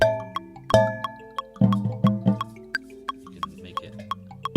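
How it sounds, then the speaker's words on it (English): Leftover water sloshes and drips inside an empty keg, giving a run of hollow, ringing plops and drips at an uneven pace, close and clear with quiet gaps between them. "this lovely keg that is now empty, apart from a little bit of water, and makes lovely sounds."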